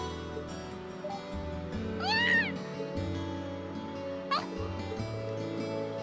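Celine the cat meows in the video game Trails of Cold Steel: one clear, drawn-out meow followed later by a shorter chirp, set over continuous game background music.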